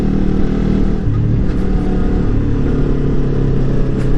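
A Lifan KPT 400cc motorcycle ridden through road corners, its engine a loud, steady, close drone with slight shifts in pitch as it holds speed.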